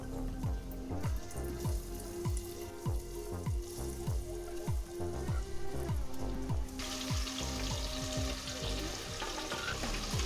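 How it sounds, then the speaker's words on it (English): Oil sizzles and crackles steadily as spare ribs deep fry, a constant bubbling hiss with scattered pops close by, with no voices. "And when the oil is hot enough for frying again, we drop in our second batch."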